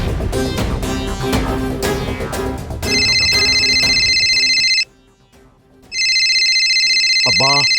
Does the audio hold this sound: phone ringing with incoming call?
yes